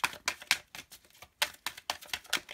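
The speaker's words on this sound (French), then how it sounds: "je mélange encore un peu puisque du coup, vu que je fais tous les signes avec les mêmes cartes, je mélange correctement" Tarot cards being shuffled: quick bursts of crisp flicking and riffling in an uneven patter, close and fairly quiet, with no voices.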